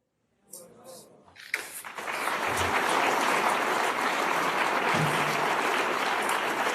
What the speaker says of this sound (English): So applause there from the business and political leaders meeting in Davos at the World Economic Forum